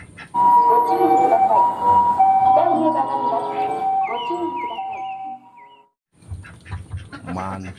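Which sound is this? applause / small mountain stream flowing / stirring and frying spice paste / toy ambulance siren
toy ambulance siren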